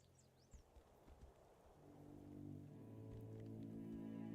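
Horse hooves clip-clop in a steady rhythm while riding in the video game Tainted Grail: Fall of Avalon, the mid-distance thuds soon joined by a swelling, sustained tonal game music bed that grows louder.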